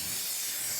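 Cooking spray hisses onto a baking pan for a rhubarb sour cream cake in one short, steady burst, close and even with no talk.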